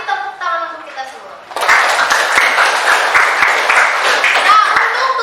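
A classroom of students breaks into brisk, loud clapping that starts abruptly and keeps going with a busy, uneven rhythm; before it, a teacher's voice is heard briefly.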